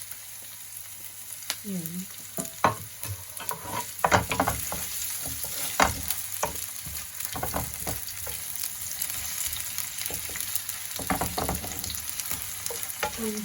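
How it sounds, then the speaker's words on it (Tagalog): Garlic and ginger sizzle hard in a hot oiled pan, with bursts of frying and stirring scrapes, close and fairly loud, and a voice speaking briefly. "lagyan natin ng bawang at saka ginger. Pagsabayin ko na yung bawang at saka ginger."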